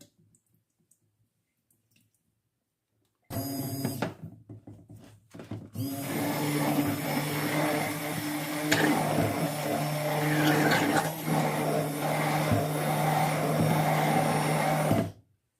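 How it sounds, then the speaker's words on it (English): Immersion blender whirring in a mason jar of homemade ketchup, starting after a quiet pause with a couple of brief bursts, then running continuously with a loud buzzing, rattling whine until it cuts off abruptly. "And this is just an immersion blender."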